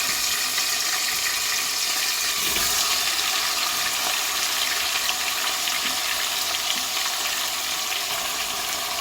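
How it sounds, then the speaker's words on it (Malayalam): Chicken pieces frying in hot oil for Hyderabadi chicken biryani give a steady, loud, broadband sizzle that fills the whole stretch without pause, and no one speaks. "ഓയിൽ നല്ലോണം ചൂടായിട്ടുണ്ട്. അപ്പോൾ നമുക്ക് ഈ ചിക്കൻ ഇതിലേക്ക് ഇട്ട് കൊടുക്കാം."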